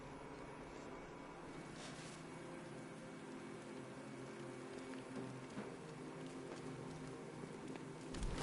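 Rain falls steadily in a rainy city scene from the Batman Arkham Knight video game, making a continuous broadband hiss with a few brief taps and a slight swell near the end.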